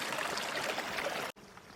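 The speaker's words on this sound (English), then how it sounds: "So we have this nice stream just flowing down through this mountain." A mountain stream on a high trail in Sequoia National Park flows steadily, a close, bright continuous rush of water that cuts out abruptly near the end.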